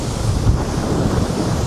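Sea waves surging against a sea wall on a windy day, a loud continuous wash of surf mixed with gusty wind buffeting the microphone.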